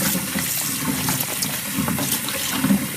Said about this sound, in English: I'm just going to use tap water, give it a clean